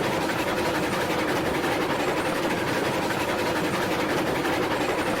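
A long coal train of about ten cars rolls along in the railroad game RailRoads Online, a steady, dense rumble and rattle with no talking.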